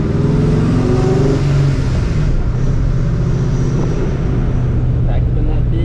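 A supercharged 2004 Ford Mustang GT engine drones loud and close, pulling in second gear at about 3,000 rpm with steady rising harmonics. The engine note holds throughout with voices talking under it.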